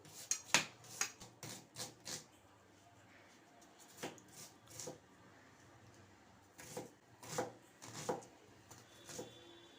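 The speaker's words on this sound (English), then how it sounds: "Now we can chop onion and finely chop onion." A kitchen knife finely chops onion on a cutting board while making guacamole, producing close, crisp taps in quick bursts separated by brief pauses.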